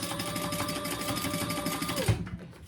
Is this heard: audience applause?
no